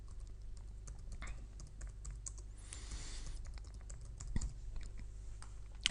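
Someone types a title on a computer keyboard in quick, soft, irregular key clicks over a quiet room hum, with a few louder taps near the end.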